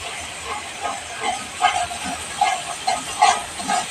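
Cumin paste fries in a pan of spiced oil for biryani, after chili and turmeric, giving a continuous close sizzling hiss with small crackling pops that swell and fade.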